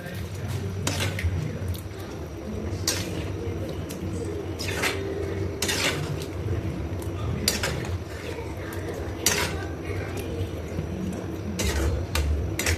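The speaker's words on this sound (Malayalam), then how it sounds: "ഇനി നമുക്കിതിൽ ചിക്കൻ മിക്സ് ചെയ്തിട്ട് വേവിക്കാം കേട്ടോ" Chicken curry being stirred in a pan, with repeated sharp clinks and scrapes of a utensil against the metal over a steady low cooking hiss, close and moderately loud with no talking.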